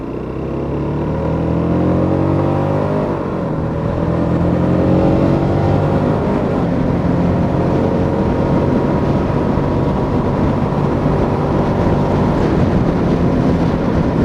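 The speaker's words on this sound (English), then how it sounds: "I'm one of the first people to ride the GD250 on US roads" A 2017 Hyosung GD250R motorcycle engine under way on the road, its steady drone rising in pitch as it accelerates, with wind rushing over the microphone and no talking.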